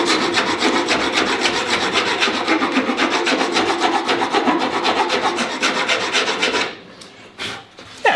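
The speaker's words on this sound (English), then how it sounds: "multi-ended rasp here." A multi-ended rasp files wood in rapid, even back-and-forth strokes, a loud, close scratchy rasping that runs steadily for several seconds, then stops and gives way to a few light knocks.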